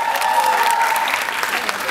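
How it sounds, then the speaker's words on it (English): Loud, sustained audience applause at a film song launch event, a dense crowd clapping with faint cheering mixed in. "Big round of applause for her also."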